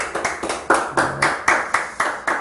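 Steady rhythmic clapping from a small classroom audience greeting a lecturer, sharp claps arriving roughly every quarter second at close range, with no talk over it.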